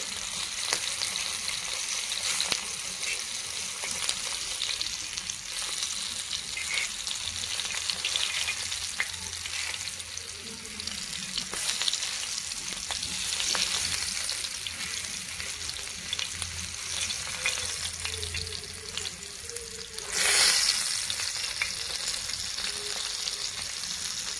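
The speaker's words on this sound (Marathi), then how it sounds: "आता आपण जरा मच्छी पलटी करून घेऊ." Pieces of fish are flipped while frying in an oiled pan, giving a continuous close sizzle with intermittent scraping and turning clicks and one louder spatter burst late on, without any talking.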